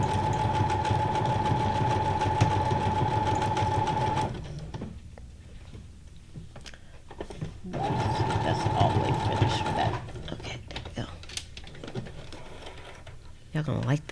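A sewing machine stitches junk journal ephemera in two steady, loud motor runs, the first about four seconds long and the second about two, with quieter handling and rustling sounds in the gaps.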